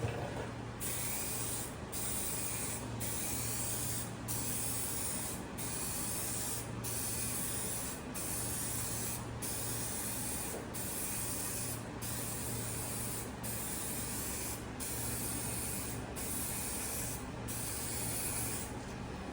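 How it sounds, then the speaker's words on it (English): Steady hissing spray from a rattle can of spray paint being applied to a car panel, continuous and fairly close, with faint periodic ticks running through it and a low hum beneath. "It's like normal spray paint."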